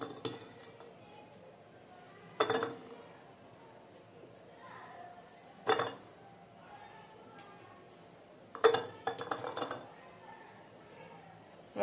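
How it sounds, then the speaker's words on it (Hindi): Onions dropped into a washed, dried glass jar, producing three separate clattering clinks a few seconds apart in a quiet room, with faint soft speech between them. "अब मैंने ये जार लिया है, अच्छी तरह से धो के सुखा दिया है। अब इसमें हम प्याज डाल देंगे।"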